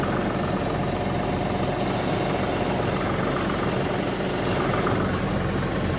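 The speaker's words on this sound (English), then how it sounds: "got the tractor warming up here" A tractor engine idles continuously while warming up, an even, low rumble, close by and unchanging, with no voices.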